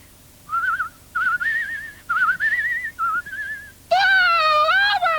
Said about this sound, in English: I want to whistle.